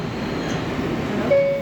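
Bronx-bound R142A subway train running on the 4 express line, a steady rumble of the moving car heard from inside, with a brief rising tone near the end.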